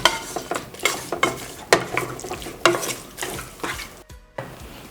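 Mutton being stirred and mixed with salt and freshly ground ginger garlic paste for an Andhra-style gongura mutton curry, giving repeated close scraping and wet squelching strokes in an uneven rhythm, with no talking.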